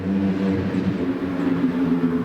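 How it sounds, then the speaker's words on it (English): A motorbike engine revs and roars loudly nearby, its steady droning pitch rising and falling as it passes. "Reckless motorbiking."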